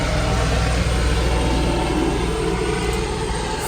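Aircraft passing overhead, a steady broad engine roar that fills the whole stretch without letting up, fairly loud and heard with no talking.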